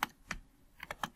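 Keys tapped on a computer keyboard while an SQL select query is typed, a few separate clicks spread unevenly over about a second, close and fairly quiet with no talking.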